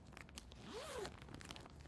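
A clear reusable plastic zippered bag holding a Mary Maxim crochet hat and scarf kit is unzipped, one short soft zip rising and falling through faint crinkling of plastic, close and quiet.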